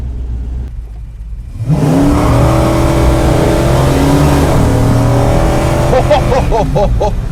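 A 1965 Dodge Coronet 500 sleeper accelerates hard from low speed, its engine note climbing into a loud, sustained roar with rising pitch that pulls close and stays strong to the end, with brief tire chirps near the finish.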